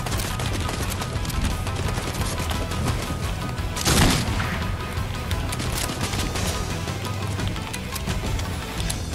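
Dense, continuous gunfire from an arena match in a shooter video game, with rapid overlapping shots sustained throughout and one louder burst near the middle.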